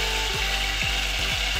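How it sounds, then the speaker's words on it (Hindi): Garlic frying in hot oil in a degchi gives a steady, close sizzle with a low hum, broken by a few sharp pops and crackles. "ऑयल में मैं डाल रही हूँ लहसुन"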